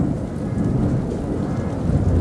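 A thunderstorm over Conakry, Guinea: dense, heavy rain pours steadily alongside a deep, continuous thunder rumble. The sound is loud, close and unbroken throughout, with no voices.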